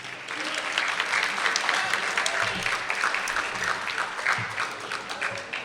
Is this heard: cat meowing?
no